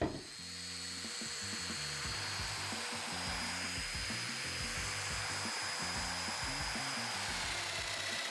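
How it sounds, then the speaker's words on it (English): A domino joiner fitted with a 5 mm cutter plunges mortises into wood, making a steady, loud motor whine with repeated rhythmic bursts of cutting as the tool bites in and withdraws, close by and without talk. "I've gone ahead and switched the domino machine over to a 5 millimeter cutter"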